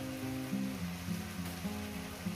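Spinach and radish curry with tiny kachki fish sizzling steadily in a pan, a soft continuous frying crackle with low stirring hum underneath, no voices.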